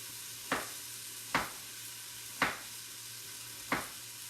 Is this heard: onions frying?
yes